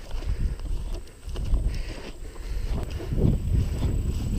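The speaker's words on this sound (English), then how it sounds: "this wind feels great" Wind blows outdoors on a sunny day at a bass fishing spot near a dam, buffeting the microphone in uneven low gusts that rise and fall across a few seconds.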